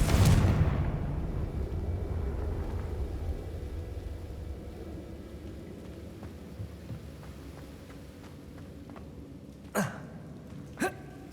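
A Confringo fire spell bursts in Hogwarts Legacy with a loud, deep boom at the start that fades into a long low rumble, followed later by two short, sharp impacts.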